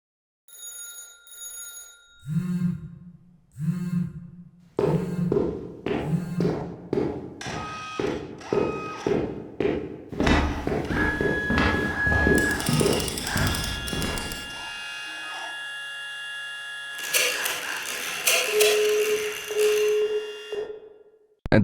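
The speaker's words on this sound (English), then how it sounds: "Footstep, phones, mechanical sounds." Sound design layer of footsteps, ringing phones and mechanical clatter, starting with high bell-like tones, then rhythmic thumping steps and dense metallic clanks and tones building into a busy, loud mechanical texture.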